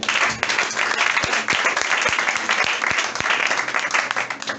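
Church congregation applauding during a Sunday worship service, steady dense clapping throughout with a few sharper individual claps, and faint voices and a low hum underneath.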